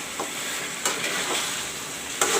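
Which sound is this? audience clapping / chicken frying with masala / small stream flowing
chicken frying with masala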